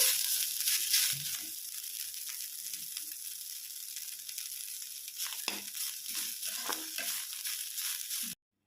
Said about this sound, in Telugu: ఒక ఫిఫ్టీన్ మినిట్స్ ఫ్రై చేసుకోవాలి మునగాకులో ఫైబర్ కంటెంట్ ఎక్కువ ఉంటుందండి